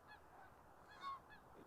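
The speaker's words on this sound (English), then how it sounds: "And then there's geese. There's always geese." Geese honk beside a frozen lake in a Regina park in late November, giving a few faint, distant calls spaced across a quiet outdoor background.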